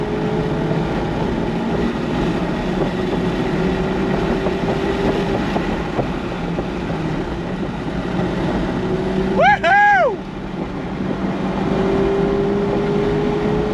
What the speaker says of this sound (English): Just rev it out, just rev it out.